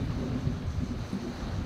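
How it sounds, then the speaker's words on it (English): Thunder rolls over remote Palawan during a seaplane trip, a low, steady rumble that swells and fades softly in the distance without any speech. "Thunder."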